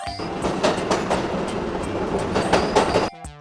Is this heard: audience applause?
no